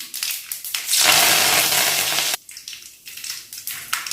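Loud hiss and crackle of mustard seeds spluttering in extra hot oil for a cauliflower stir-fry, a dense sizzling burst that cuts off abruptly, followed by lighter scattered pops.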